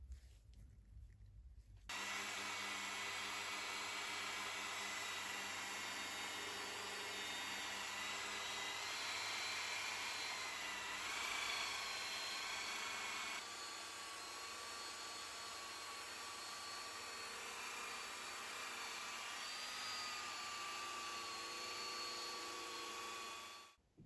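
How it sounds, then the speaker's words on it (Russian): A power polisher spins steadily against a car headlight on a pad loaded with Koch anti-hologram paste, a continuous high whirring drone that starts abruptly after a brief pause and holds for over twenty seconds. "Накладываем пасту на круг и полируем"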